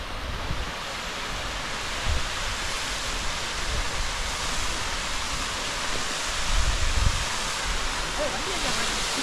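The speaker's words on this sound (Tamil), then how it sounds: "அருவி பாருங்கள் எப்படி கொட்டிகிட்டு இருக்குன்னு." A waterfall pours at Kolli Hills, a dense continuous roar of falling water that stays loud and steady throughout, heard up close with no break.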